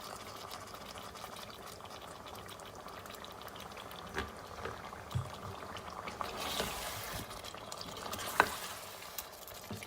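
Steady frying sizzle of aloo gosht in ghee and oil with occasional stirring scrapes and clinks, close and continuous, no talking.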